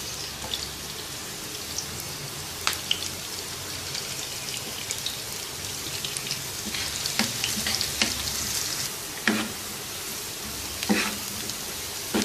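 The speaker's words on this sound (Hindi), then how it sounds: "सबसे पहले अनियन ऐड करेंगे और इसको नाइस गोल्डन कलर में फ्राई कर लेंगे" Onions frying in oil in a pan until golden, for a tawa dal fry: a steady close sizzle with scattered sharp crackles and pops, alone without talk.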